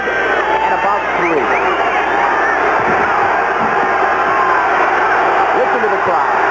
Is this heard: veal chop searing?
no